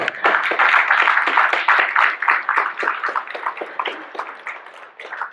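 A church congregation claps in a fast, steady rhythm, many hands striking together loudly and close, easing slightly toward the end with no talk over it.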